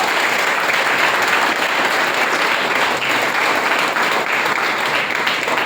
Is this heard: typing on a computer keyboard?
no